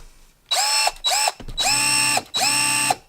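TackLife 20V cordless drill running at speed 1, a whining motor in four distinct bursts, the first two short and the last two longer, each starting and stopping cleanly and close to the microphone.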